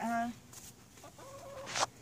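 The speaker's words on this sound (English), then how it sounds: "we have a brooding hen in here, Pepper." A brooding hen in a backyard coop in a suburban garden in Bakersfield, California, gives a few soft, close clucks and low murmuring calls, with a short, sharper squawk near the end.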